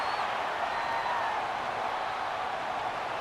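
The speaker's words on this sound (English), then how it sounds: "This crowd into it now as we get to 3rd down." Stadium crowd noise from the video game Madden NFL 25, a steady, dense roar of cheering fans throughout a third-down moment, holding at an even level without pauses.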